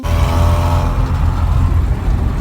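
A VAZ 2101 car engine running after a start, a steady loud close-up rumble with a rough idle throughout and no talk.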